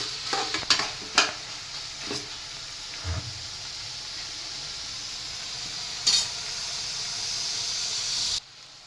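Tomatoes with salt and turmeric are stirred and cooked in a pan for egg curry, giving a soft steady sizzle with a few spoon scrapes against the pan, close and fairly quiet.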